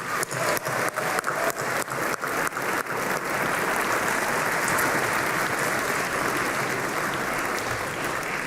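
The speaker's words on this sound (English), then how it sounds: "Please give them a round of applause." Steady applause from a school winter concert audience, starting with a few distinct loud claps and swelling into a dense, sustained wash of clapping from a large crowd, with no voices over it.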